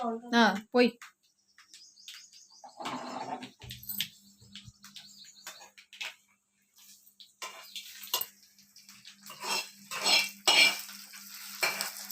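Tempering poured into cooked rice in a pot and stirred, with metal spoon scrapes and clinks against the pot, a brief sizzle, and people talking intermittently throughout.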